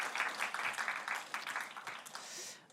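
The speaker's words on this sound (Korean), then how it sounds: "박수 한번 보내주십시오" A church congregation gives applause during a Bible recitation contest, a quiet, steady patter of many hands clapping at a distance that fades out near the end.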